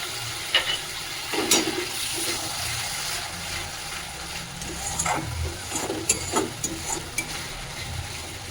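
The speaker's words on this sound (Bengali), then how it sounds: "এবারে আমি এক বাটি জল দিয়ে দিচ্ছি মশলাটা যাতে না লেগে যায়" Water poured into frying spice paste for a Bengali katla and tangra fish curry, giving a rushing, bubbling hiss with intermittent stirring knocks, moderately loud and steady throughout.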